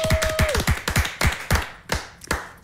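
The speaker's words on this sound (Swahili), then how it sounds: "Makofi." A small group claps in loose, uneven bursts, close and crisp, the claps thinning out and slowing toward the end.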